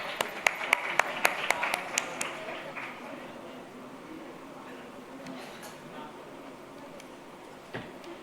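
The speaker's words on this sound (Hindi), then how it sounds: "इनके लिए भी जोरदार तालियां।" Applause from an audience at an astrology gathering where astrologers are honoured on stage, sharp claps at first that fade into a softer crowd murmur.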